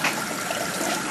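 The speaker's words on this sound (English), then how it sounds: "still have a pretty good rate of water coming in here" Maple sap pours into an evaporator as a short, steady close-up gush of running liquid.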